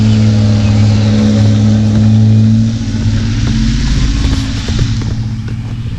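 A UPS delivery vehicle pulls away fast, its engine droning loudly, then rising briefly as it accelerates and easing slightly as it moves off.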